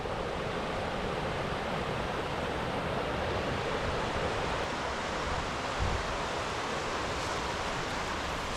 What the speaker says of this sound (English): So here's just a shot of the water.